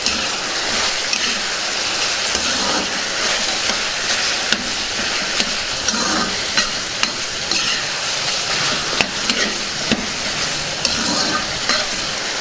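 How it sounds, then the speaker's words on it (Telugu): Chicken sizzling loudly in a pan of hot oil for a Telugu-style chicken egg fry, with a continuous dense crackle and occasional scraping stirs throughout. "చికెన్ని బాగా వేగనిద్దాం."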